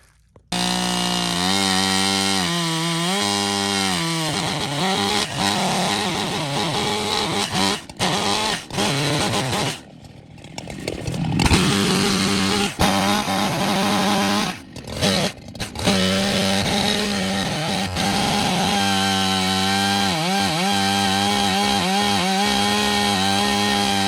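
A chainsaw cuts down a tree, running loud and close for most of the clip, its engine revving up and down with brief idle dips and surging again through the cut.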